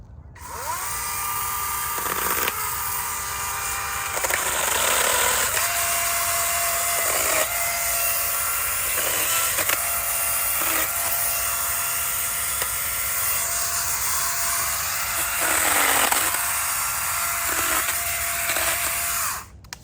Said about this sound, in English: It's a really good chainsaw